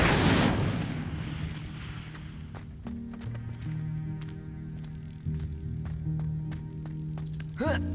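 Incendio fire spell cast in Hogwarts Legacy, opening with a loud whooshing burst of flame that fades into a low crackling rumble, with sustained game tones and light clatter after it and a bright swell at the end.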